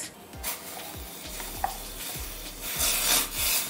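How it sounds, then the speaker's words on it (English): A spoon stirs a thick blended plantain and oatmeal porridge mixture in a pot, giving repeated close scraping and rubbing strokes in a steady rhythm, with brief clinks against the pot and no talk. "And instantly I started to stir it"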